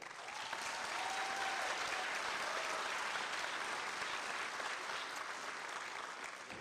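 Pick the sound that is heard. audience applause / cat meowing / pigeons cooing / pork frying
audience applause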